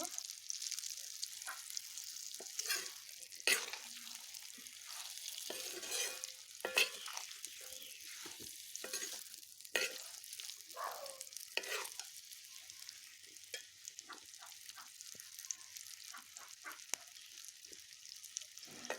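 Amla pickle stirred in a hot pan, with a steady sizzle and frying hiss under repeated scraping strokes of a spoon across the pan, continuous and close for the whole stretch, no talking.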